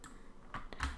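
Typing on a computer keyboard, a few crisp, close key clicks in quick, uneven succession with no voices.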